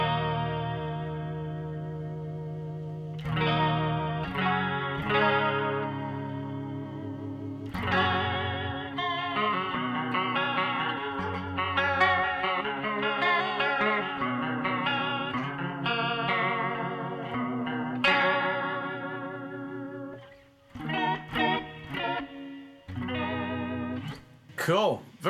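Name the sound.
guitar through Roland JC-40 amp with vibrato effect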